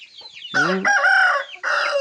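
Chickens in a coop on a small farm flock of 25 hens, loud close clucking and a crowing call, several overlapping squawks over about two seconds.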